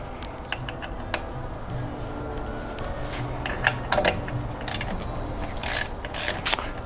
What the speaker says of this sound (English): so now we're gonna undo all these perimeter bolts.